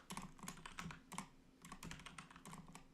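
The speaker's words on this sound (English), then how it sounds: "Sorry, my typing sucks." Fingers type on a computer keyboard in quick, uneven bursts of clicky keystrokes, heard close and fairly quiet with short pauses between runs.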